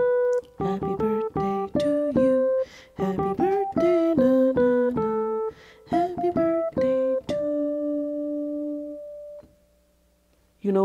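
The Happy Birthday melody rings out on a single-voiced instrument, clear sustained notes in a steady phrase, ending on a long held tone, played alone close by.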